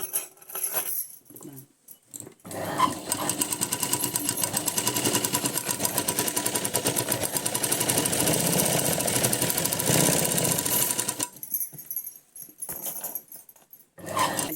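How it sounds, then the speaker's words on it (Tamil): A sewing machine stitches a seam on a piece of fabric, a loud, close, continuous run of rapid needle clatter lasting about nine seconds. Quieter handling noises come before and after it. "அப்படியே திருப்பி இந்த மேலே ஒரு தையல் போட்டு"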